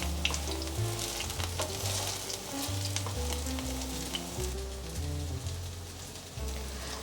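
Continuous close sizzling of potato and flour vegan patties frying in oil in a pan, bright crackling spatter over a steady low hum, with no one speaking.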